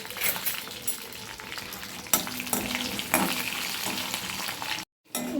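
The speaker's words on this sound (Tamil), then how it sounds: "இதை நல்லா வறுத்து விட்டுருங்க." Cumin, about ten dried red chillies and peeled garlic fry in hot oil with a steady, close sizzle. A spoon stirs them at intervals, scraping and clinking, and there is a brief silent gap near the end.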